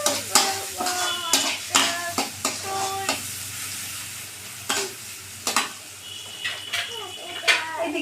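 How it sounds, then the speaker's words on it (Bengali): Chopped onions frying in hot oil for noodles, a soft sizzle beneath frequent clinks and scrapes of a spatula against the pan, coming in quick bursts and then quieter gaps. "এবার কুচনো পেঁয়াজগুলো দিয়ে দেবো। দিয়ে হালকা হালকা ভেজে নেব।"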